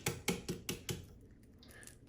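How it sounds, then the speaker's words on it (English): A boiled egg's shell is tapped on all sides, producing five quick, evenly spaced clicks followed by softer scattered cracks, faint and close, with no talking. "I'm just going to simply tap on it on all sides like this"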